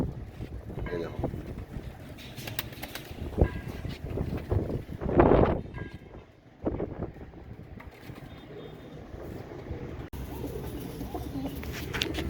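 Kasni pigeons, a Kamangar Kasni Saleti fancy breed, coo softly and repeatedly nearby, with wind buffeting the microphone and faint background noise throughout.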